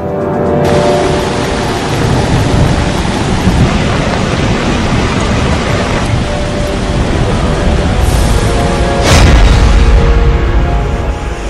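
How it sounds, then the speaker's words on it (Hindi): Heavy monsoon rain pours steadily and loudly across the whole scene in Chhattisgarh, with a deep thunder rumble swelling near the end; no voices are present. "छत्तीसगढ़ में बेहिसाब बारिश।"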